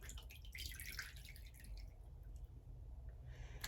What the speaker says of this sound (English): I guess the time of wait is when it stops dripping